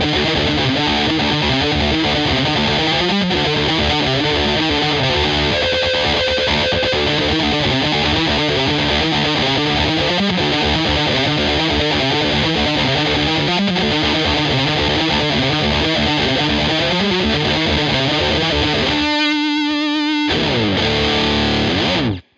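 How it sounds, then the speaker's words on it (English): A heavily distorted electric guitar through a Prime Distortion pedal plays a loud, chunky riff with driving repeated chords, ending in a short choppy stutter before cutting off. "riff distortion, which in my case is the prime distortion,"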